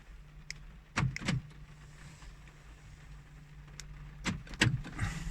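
Central locking on a 2012 VW Polo worked by its remote key: two pairs of quick mechanical clunks a few seconds apart, close by, over a quiet background hum.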